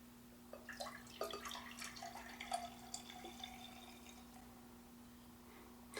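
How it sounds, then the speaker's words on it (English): Chilled coffee poured from a HyperChiller into a plain glass, a quiet, close trickle with soft splashes and gurgles over a few seconds, set against a steady low hum. "Going to pour it into a plain glass."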